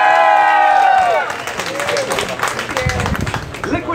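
A comedy-set crowd breaks into clapping and cheering, starting after a brief sustained voice and building into a lively mix of claps and shouts from an audience in a room.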